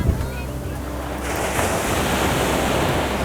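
Ocean waves break on a beach shore, a loud, continuous wash of surf swelling after a moment, mixed with wind buffeting the microphone and no clear talk.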